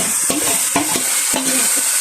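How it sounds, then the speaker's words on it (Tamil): Onion, garlic, fennel, fenugreek and curry leaves tempered in hot oil for a tomato curry, with a spoon scraping and stirring in quick strokes over a steady close sizzle, no voices. "தக்காளி பழ குழம்புக்கு வெங்காயம், உள்ளி, பெருஞ்சீரம், வெந்தயம், கருவேப்பிலை எல்லாம் போட்டு தாளி வருது."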